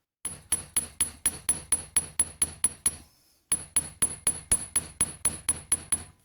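Rhythmic hammering on a copper penannular brooch, a steady run of sharp metallic strikes with a brief pause midway before the blows resume, close and clear with no voices.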